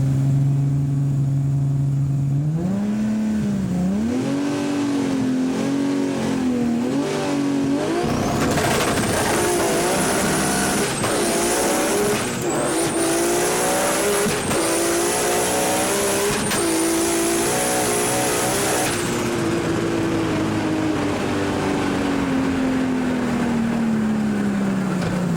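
V8 drift car engine, tuned and boosted, revving hard through repeated gear changes with rising and falling pitch and a sustained high tire squeal, loud and close, then winding down, no voices.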